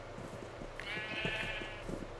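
A video-game sheep lets out a single wavering bleat about a second long, set over a faint steady background.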